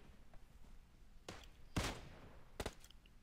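Three sharp gunshots in PUBG Mobile, spaced apart, the middle one loudest and longest, over a quiet background.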